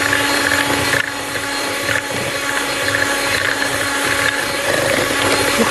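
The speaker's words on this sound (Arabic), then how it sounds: "دلوقتي بقى ازود لهم اللبن شويه شويه كده، وابتدي اضرب الخليط ده كده كويس قوي." Creamy cocoa mixture whisked hard while milk is poured in bit by bit, a steady rapid scraping and rattling that runs continuously at close range with no pauses.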